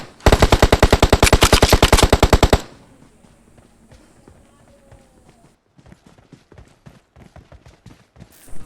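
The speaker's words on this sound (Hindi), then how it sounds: "मेरा टीममेट गोलियां चला रहा होता है" A loud, rapid burst of automatic gunfire in the video game BGMI for about two seconds, then quieter scattered footsteps and light tapping sounds.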